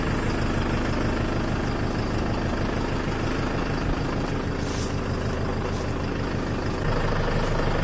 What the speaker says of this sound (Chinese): 我还能开车， 还能录视频。